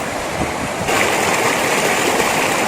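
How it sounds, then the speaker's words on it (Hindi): Loud, constant rush of mountain stream water tumbling over rocks in Pakistan, a dense unbroken roar with no voices. "कितना शोर बना है पानी का।"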